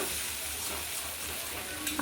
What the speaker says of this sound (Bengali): এই যে ঢেঁড়স আলু চিংড়ি পেঁয়াজ দিয়ে ভাজা